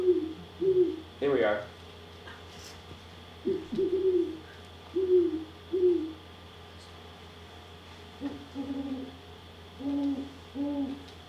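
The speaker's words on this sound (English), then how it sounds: "So that's a pair of great horned owls." A pair of great horned owls hooting in a recording, deep soft rhythmic hoots in short phrases of several notes, repeated at intervals with pauses between, a brief spoken aside near the start.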